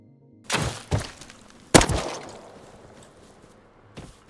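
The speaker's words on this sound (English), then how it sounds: "Did you kill him with a rock?" In the survival game Rust, a rock strikes a player in a handful of heavy, close thunks. Two come in quick succession, then one louder crack, then a faint last knock, with near silence between hits.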